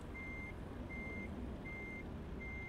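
Quiet truck reversing alarm in American Truck Simulator, four evenly spaced high beeps over a low engine rumble.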